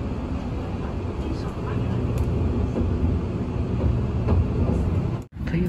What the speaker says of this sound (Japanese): 列車はこれより高崎線を走行中です